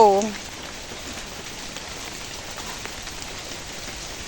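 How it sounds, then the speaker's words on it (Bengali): Steady rain falls outdoors, a soft, even patter and hiss throughout after a brief voice at the very start. "বৃষ্টি এসে গেল"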